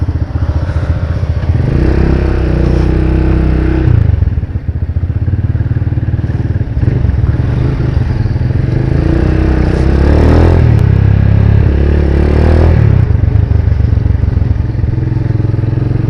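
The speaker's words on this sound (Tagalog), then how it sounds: "Ganda ng motor guys oh." A loud Punisher motorcycle engine rumbles continuously up close, with wind buffeting and occasional rattles and thumps as it rides along.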